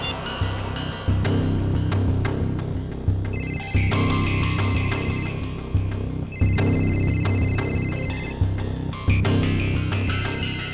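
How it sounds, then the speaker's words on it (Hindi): A phone ringtone chimes in repeated bursts over a steady, loud background hum, the electronic melody returning several times at regular intervals. "ये जो बेल बज रही है"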